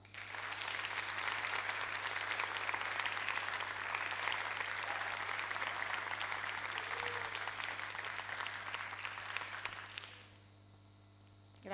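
An audience at a Neapolitan talent show claps steadily and densely for about ten seconds, then the applause stops abruptly, leaving a low background hum.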